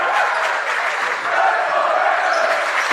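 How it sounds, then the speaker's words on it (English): Visiting crowd cheering and applauding at a girls' high school tournament basketball game, a dense, steady roar of voices filling the gym for the full stretch without a break. "Now the visiting crowd's into it"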